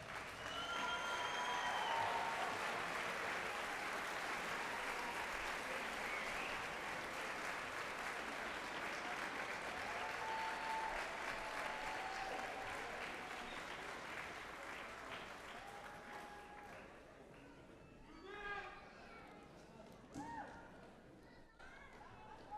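Graduates and guests at a 2019 biomedical sciences graduate school commencement applaud in a long, sustained wave of clapping that gradually thins out, with scattered cheers and crowd chatter near the end.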